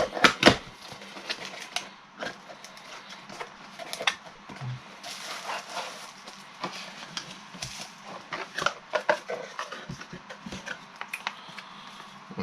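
Cardboard box and packaging for a cheap wireless Bluetooth ergonomic mouse being opened up close, with a run of crisp taps, scrapes and rustles at an irregular rhythm and no talking.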